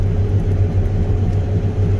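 A harvester header runs engaged at high RPM, giving a steady, loud mechanical drone with a deep humming rumble and no pauses.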